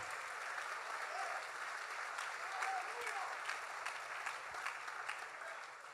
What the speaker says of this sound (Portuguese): Aplauda Jesus, Ele é maravilhoso.